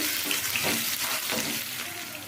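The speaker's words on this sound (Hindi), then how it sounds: "प्याज को हम ब्राउन कलर होने तक पहले भून लेंगे।" Onions and dried red chillies frying in oil in a pan with bay leaf, giving a steady hiss and crackle throughout, fairly close, with light stirring and no talk.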